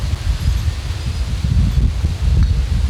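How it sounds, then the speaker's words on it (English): Steady outdoor wind buffeting the microphone in an orchid garden, a continuous low rumble with faint rustling throughout and no speech. "it's quite windy"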